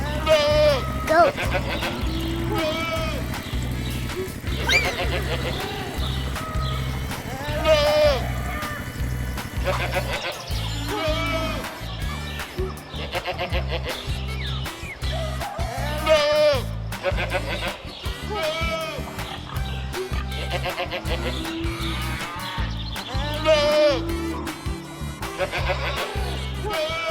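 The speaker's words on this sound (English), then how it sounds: "Goat." Goats bleat again and again on a farm, loud and close, in repeated wavering cries over a steady rhythmic music bed, with a voice speaking at times.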